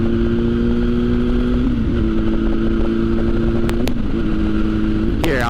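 A 1000cc sportbike engine drones steadily while riding in top gear at around 3,000 RPM, loud and close, its pitch shifting slightly a few times, with a rising rev near the end.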